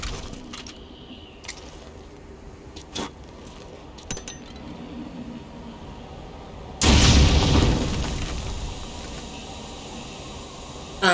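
A loud, sudden explosion in Metal Gear Solid V: Ground Zeroes bursts out after a stretch of quiet clinks and small sounds, then a heavy rumbling roar slowly decays.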